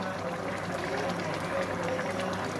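A vegetable curry of taro, potato and okra simmers in a pot, giving a steady, close bubbling and hissing that runs without a break.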